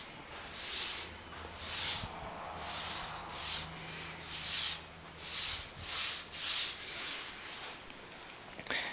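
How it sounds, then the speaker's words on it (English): Excess grout is wiped off ceramic tile in rhythmic strokes, about a dozen rough scrubbing swipes close by, each a hissing rub with brief pauses between. "We're just starting the process of removing the excess grout"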